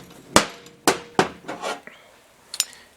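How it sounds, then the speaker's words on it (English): A wooden hammer taps a shaft into a Willys CJ3A transfer case during a rebuild, with several sharp, close knocks in an uneven rhythm and no talk. "just tap it with the end of the wooden hammer"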